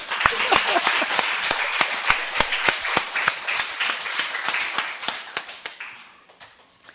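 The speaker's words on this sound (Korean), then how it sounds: "박수 한번 칠까요?" A congregation at a Korean Sunday worship service claps together in a lively burst of distinct, fairly rhythmic hand claps that thin out and fade over the last second.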